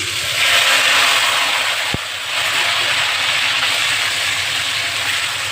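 Ginger, green chilli and tomato paste frying in hot oil in a pan, a steady broadband sizzle and hiss that holds loud throughout, with one brief click partway through.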